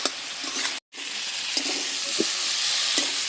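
Pumpkin greens with shrimp sautéing in a pan, a continuous close sizzle broken by a brief pause, with several scraping stirs of a spatula against the pan.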